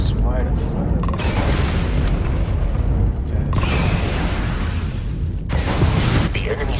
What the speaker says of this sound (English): If you can keep the enemy ship centered on the HUD, we can lock in to fire a homing missile.